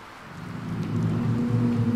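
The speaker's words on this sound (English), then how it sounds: "There's a storm coming." Storm rain pours steadily with low rolling thunder rumbling and swelling in a sailing simulator video game, the sound building slightly louder partway through with no talking.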